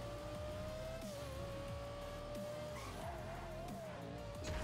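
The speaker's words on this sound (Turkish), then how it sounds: "Kanka benim arabanın drift falan mı açıldı?" A car in a video game drifting, tires squealing in a sustained wavering screech over a steady engine drone, at moderate, even level throughout.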